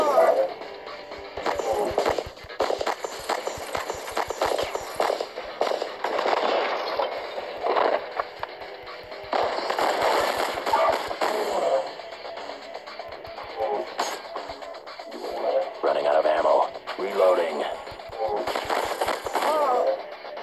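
Rapid bursts of gunfire in the video game Utopia crackle repeatedly, with short pauses between volleys and mixed game noise.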